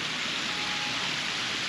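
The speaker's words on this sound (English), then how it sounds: "there is this beautiful water fountain here as well" Water fountain splashing in a city square in Palmas, Brazil: a dense, loud, continuous rushing spray with no breaks and no voices.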